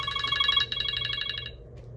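A phone rings with an incoming call from an unknown number, giving quick bright trilling bursts over about a second and a half before stopping, faint and alone over a low background hum.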